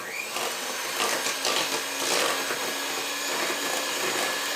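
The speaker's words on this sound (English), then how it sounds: "you're creaming egg, sugar and butter together" A mixer whirs steadily through a bowl of egg, sugar and butter being creamed together, a continuous close buzzing hum with slight wavering as the beaters work.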